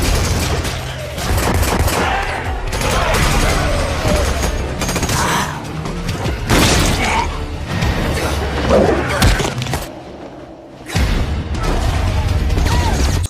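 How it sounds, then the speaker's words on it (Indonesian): Gunfire in a zombie film shootout scene: dense, continuous volleys of shots and crashing impacts, loud and busy throughout, with a brief lull before the firing resumes. "aksi tembak-tembakan di antara mereka pun terjadi"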